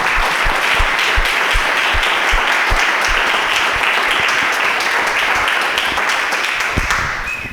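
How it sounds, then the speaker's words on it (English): A crowd applauds steadily, a dense wash of clapping that holds at full strength before tapering slightly at the end. "So let's give them a round of applause."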